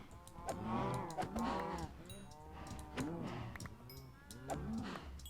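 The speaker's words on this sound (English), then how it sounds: "Dang it, cattle." Cattle low repeatedly inside a Minecraft farm pen, several drawn-out moos overlapping in quick succession, close and fairly loud with no talk.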